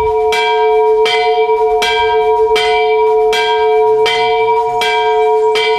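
A large, 205-year-old church bell in a village belfry tolls steadily, about one strike per second, each stroke ringing out with a long humming resonance, loud and close.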